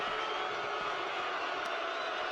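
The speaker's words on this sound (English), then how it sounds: "You can just hear the crowd in the background booing." Crowd noise in the WWE 2K22 wrestling video game during a Roman Reigns match, a dense continuous arena roar of booing, steady and fairly faint with no clear individual voices.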